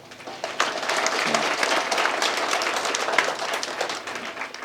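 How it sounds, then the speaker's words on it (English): An audience claps steadily at an environmental conservation awards ceremony in Nairobi, a dense, sustained round of applause from many hands that holds an even level throughout without talking. "I'd like us to clap and congratulate them for a job well done."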